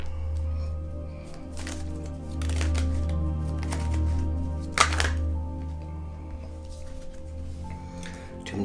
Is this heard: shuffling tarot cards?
yes